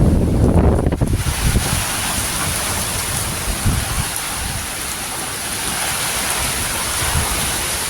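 Strong wind roars against the microphone in loud gusts, blending with a steady downpour of rain that continues throughout.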